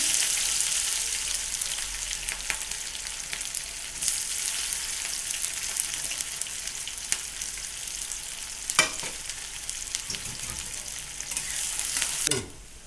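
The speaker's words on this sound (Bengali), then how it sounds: "পেঁয়াজটা আমার লাল করে ভাজা হয়ে গেছে।" Chopped onions with cumin frying in mustard oil in a wok, a steady close hiss of sizzling throughout with occasional scraping stirs of a spatula, no talking.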